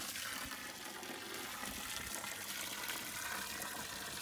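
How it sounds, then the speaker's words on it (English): Water runs steadily into a container holding biochar, soil and green manure, a continuous close gushing fill with no talk over it. "Then we're going to fill this with water."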